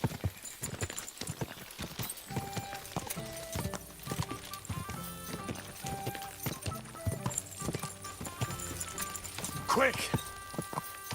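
Horse hooves galloping in the video game Kingdom Come: Deliverance II, rapid rhythmic clip-clop running throughout with a brief whinny near the end, set against game music and ambience.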